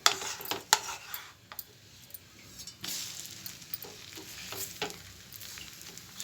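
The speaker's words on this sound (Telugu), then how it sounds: "కొద్దిగా ఆయిల్ వేసుకొని ఫ్రై చేసుకున్నాం" Egg dosa frying in a little oil on a pan, with soft sizzling under scattered clinks and scrapes of a spatula against the pan.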